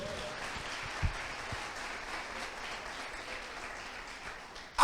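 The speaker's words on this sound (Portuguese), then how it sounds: "Você pode aplaudir o Senhor por isso?" A church congregation applauds, a quiet, distant wash of clapping that holds steady for several seconds, with a few sharper isolated claps standing out near the start.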